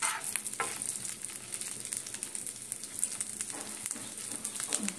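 Potato pieces sizzle steadily in hot oil, the same oil reused while making a chickpea chaat, with a continuous close frying hiss and occasional stirring scrapes, no voices.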